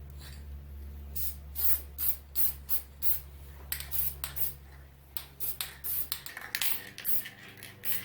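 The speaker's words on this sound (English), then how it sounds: "it's time for one more coat of lacquer" Short hissing bursts of aerosol lacquer sprayed onto 3D printed knobs for a 1934 Grunow 501 tube radio, a dozen or so quick puffs at uneven spacing over a low steady hum.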